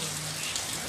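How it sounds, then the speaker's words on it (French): Heavy rain pours down steadily on Libreville, a dense, even wash of hiss filling the short stretch without a break. "il pleut excessivement dans Libreville"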